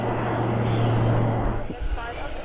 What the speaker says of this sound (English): An A400M Atlas on low approach.